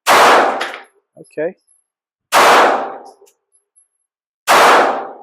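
PSA Micro Dagger pistol fired at target practice, three loud close sharp shots spaced about two seconds apart, each with a ringing decay, and a brief spoken word between the first two shots.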